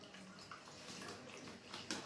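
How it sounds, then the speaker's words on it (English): Room temperature water poured into dry cornmeal for a porridge, a soft steady trickling splash that runs continuously at low volume, ending with a brief sharper clink. "I'm going to put some water in this."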